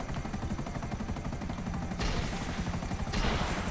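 Attack helicopter in GTA 5 letting loose a steady rattle of machine-gun fire over its rotor drone, growing louder and denser toward the end as missiles are launched, with no talk.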